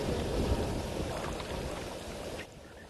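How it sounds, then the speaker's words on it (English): Wind gusts across the open flamingo site at Kamfersdam just outside Kimberley, a steady rushing roar buffeting the microphone throughout, easing slightly near the end. "It's a little bit windy."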